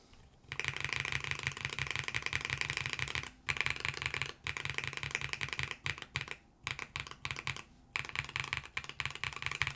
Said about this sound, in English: I guess the best way to tell is typing on it, right?